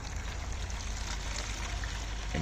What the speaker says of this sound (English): I will fill up this bucket.